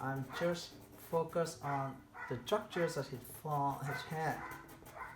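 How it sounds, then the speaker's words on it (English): A neighbor's dog barks in short repeated bursts in the background while someone talks steadily over it. "Sorry for the noise. It's my neighbor dog."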